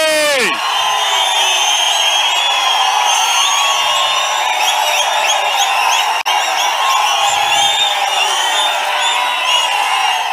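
A large political rally crowd in Palamaner keeps up a loud, sustained roar of cheering and whooping, a dense wall of voices that barely wavers for about ten seconds.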